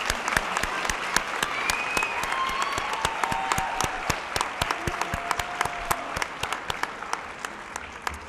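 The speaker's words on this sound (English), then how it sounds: "We want to give our state award finalists a final applause" An audience at a science fair evening applauds the state award finalists with sustained, dense clapping from a sizable crowd, steady throughout, with no talking.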